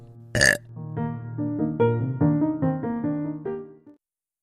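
A sharp click, then a long, drawn-out burp that wavers in pitch for about three seconds before cutting off into silence.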